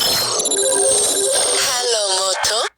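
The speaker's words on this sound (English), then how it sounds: "excuse me, there was a phone call" A phone rings loudly with an incoming call, a bright continuous electronic ringtone lasting nearly three seconds before cutting off abruptly.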